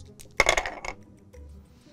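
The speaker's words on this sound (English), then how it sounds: "He's re-rolling them again." Dice clatter sharply as they are re-rolled in a game of Yahtzee, a quick close burst of clicks and rattles that settles within half a second, followed by quiet.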